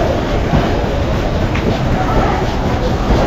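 A train running through green forest near Sreemangal, a loud, steady, close rumble of wheels and carriages filling the whole clip, with a voice faintly audible beneath.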